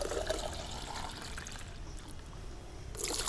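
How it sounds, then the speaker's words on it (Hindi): One litre of water is poured into a bucket, a steady close trickle and splash that runs throughout and picks up brightly near the end, with no talking. "इसमें हम ले लेते हैं 1 लीटर पानी"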